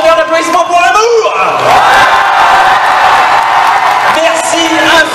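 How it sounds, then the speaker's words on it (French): Loud crowd cheering and whooping fills a YouTubers conference hall at the Paris Manga 2014 convention, a dense sustained roar of voices with shouts on top throughout. "je vous invite de faire un tonnerre d'applaudissements pour l'amour"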